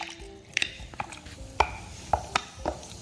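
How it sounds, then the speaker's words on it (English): Ice is stirred in a glass of Chapman cocktail made with lemon and Sprite, giving a handful of sharp, ringing clinks spaced irregularly and fairly close, with no talk. "I'm going to put my ice. I'm going to stir this."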